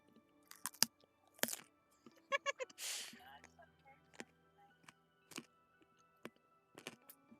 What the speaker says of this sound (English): I'm just chewing this carrot and I know this has to be absolutely obnoxious